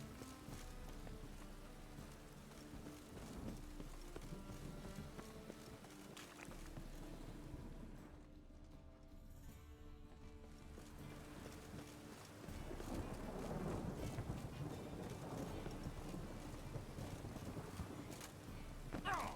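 Steady rain falls across a town in The Witcher 3: Wild Hunt, a soft, even wash that swells louder in the second half, with no distinct thunderclap standing out.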